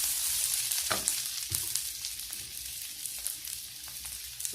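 Food fries in a pan with onions, giving a steady, crackling sizzle with scattered pops and soft stirring scrapes, close and moderately loud with no voices over it.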